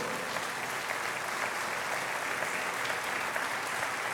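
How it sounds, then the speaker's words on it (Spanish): A congregation applauds during an evangelistic sermon, a thick, even wash of clapping from a large audience, steady and loud from start to finish. "Dale un fuerte aplauso a nuestro Dios"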